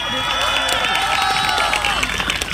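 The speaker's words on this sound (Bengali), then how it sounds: "সৌমদীপের জন্য একবার জোরে হাততালি হোক" An audience at a school stage show claps and cheers for a performer, a crowd sound rising beneath lingering musical tones and voices.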